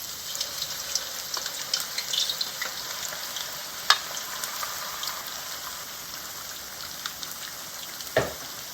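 Green plantain frying in a pan, a low, steady crackling sizzle with faint clicks and one sharp knock near the end, heard alone without voices.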